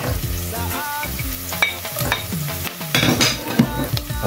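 Beef with garlic and chili sizzles in a pan while being sautéed and stirred, a steady close frying hiss with scraping and clinking of the utensil against the pan throughout.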